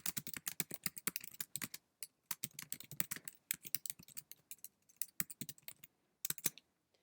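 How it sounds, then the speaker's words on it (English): Fingers type on a computer keyboard in quick, irregular bursts of close, crisp key clicks, with short pauses between runs and no talking. "I can type in my question."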